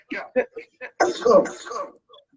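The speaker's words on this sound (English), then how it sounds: "See how bad I'm coughing" A few short, sharp coughs in a row, then a rougher, longer bout of coughing and throat clearing, close and fairly loud.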